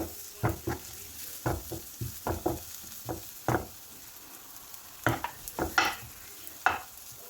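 Cumin and black pepper powder being sautéed in a pan for a fish curry, with a spatula scraping and stirring in irregular bursts over a soft, steady sizzle, close and moderately loud with no talking.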